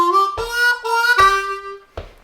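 A harmonica plays lick 6 of a song: a short phrase of clear, reedy sustained notes with distinct breath attacks, played alone and ending on a brief final note.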